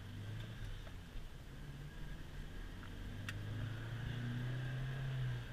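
Truck pulling out onto a highway, its engine droning steadily and rising slightly in pitch as it accelerates, heard from inside the cab with road noise.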